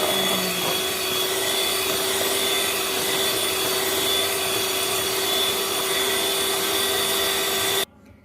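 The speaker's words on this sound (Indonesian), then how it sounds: "Ini cepat aja yang adanya karena ini mixernya mixer kecil." Small electric hand mixer beating sponge cake batter, a continuous close whirring drone with a steady tone that runs without pause and cuts off sharply at the end.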